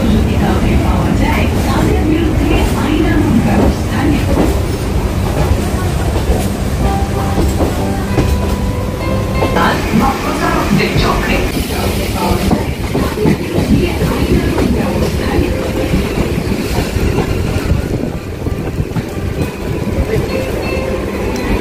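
A local train pulls out of Sealdah railway station with a loud, steady rumble and clattering wheels heard from onboard, plus squeals and knocks along the way and occasional voices in the background.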